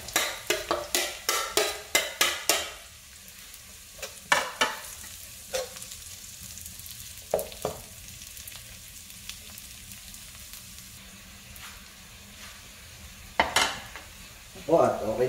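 Onions frying in a pan for adobong adidas, with several loud bursts of stirring and scraping at the start, then a quieter steady sizzle broken by occasional utensil clinks and a final flurry of stirring.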